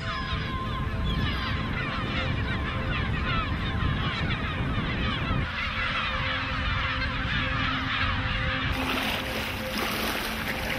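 A dense chorus of herring gull cries and honking calls fills the air continuously over Lake Sevan in Armenia, loud and overlapping, with water and wind noise beneath.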